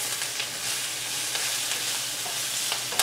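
Vegan ramen noodles stir-frying in a very hot pan give a steady close sizzle and hiss with faint scraping from stirring throughout.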